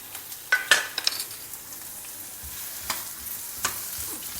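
Onion, red and green chillies, ginger and garlic frying together in a pan for Madurai thanni chutney, a soft steady sizzle with a few sharp scrapes and clinks of a spoon against the pan early on, then quieter stirring.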